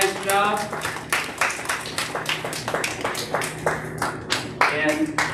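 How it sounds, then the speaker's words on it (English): A small crowd at a swim meet claps for the silver swimmers, a scattered burst of hand clapping close by with speech mixed in. "give a round of applause for all of the silver swimmers here"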